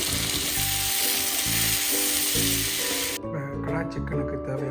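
Tomatoes go into a kadai with sautéed onion and garlic and fry with a loud, dense sizzle. The sizzle drops off sharply near the end, leaving quieter spitting and popping.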